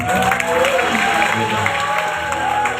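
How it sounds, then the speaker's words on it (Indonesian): Church audience applauding and cheering in a large room, steady dense clapping throughout with a tonal musical or voice line running underneath. "tepuk tangan untuk kalian dulu"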